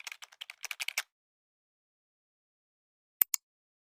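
Quick bursts of keystrokes on a computer keyboard while writing Python code in VS Code, a rapid run of clicks for about a second, then silence and two final taps.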